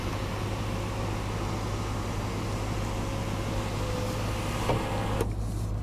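The electric moonroof motor of a 2011 BMW M3 whirs as a steady hum inside the cabin while the roof slides open, and a soft click and thump come near the end as it stops.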